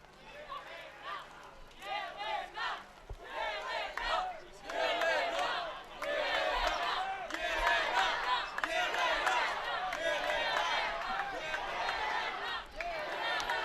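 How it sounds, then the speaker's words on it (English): Home crowd at an International Boxing Day bout cheers and shouts behind the fighter in an outdoor rain-affected ring, a rising and falling roar of voices under close commentary speech. "Home crowd looking to get behind Zekic."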